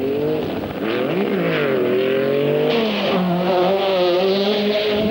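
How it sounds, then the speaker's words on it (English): A Toyota Celica rally car flung into a bend on the 1984 RAC Rally, its engine loud and close, revving and climbing in pitch through the corner with a brief dip and surge, no voices. "Voldegaard flings the Toyota Celica into the bend"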